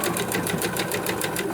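Sewing machine stitching strips of fabric scraps runs in a steady, fast mechanical rhythm of needle clatter and motor whir, close and continuous throughout.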